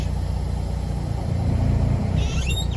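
Semi tractor engine idling low and steady as the clutch is eased out against the parking brake, a dense continuous rumble with a slight swell midway and faint high squeaks near the end.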